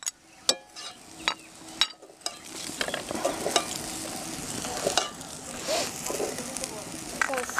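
Chicken chow mein with onions, chillies and boiled noodles being stir-fried in oil, spatula clanks near the start giving way to steady sizzling and scraping throughout, close and moderately loud.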